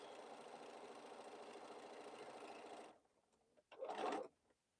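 A sewing machine runs steadily while a quilt border is stitched on, then stops abruptly; after a short quiet gap comes a brief, louder burst of handling or a quick restart near the end.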